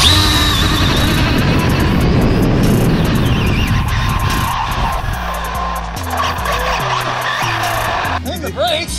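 Arrma Limitless RC car on a drag run, tires skidding loudly and continuously with high whine from the motor, voices talking over the noise.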